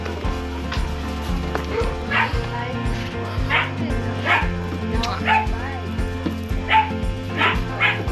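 Several dogs at a dog shelter bark and yip repeatedly at close range, with short whimpers between barks, over a steady background hum and some talking.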